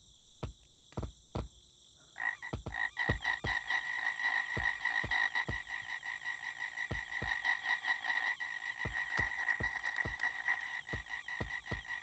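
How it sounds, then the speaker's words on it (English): A frog croaks again and again inside the video game Gorilla Tag, a steady close chorus of throaty calls. Sharp footstep-like taps land over it at irregular moments, and no one talks. "I can hear the footsteps and the frog"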